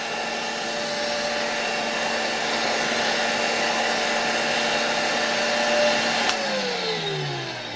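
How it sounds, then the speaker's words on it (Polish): A 1963 Alfa K2 vacuum cleaner runs with a dryer attachment blowing warm air, giving a loud, steady whining hum that drops in pitch near the end as the motor winds down. "No i włączę teraz zaraz odkurzacz. Powinno tutaj lecieć ciepłe powietrze."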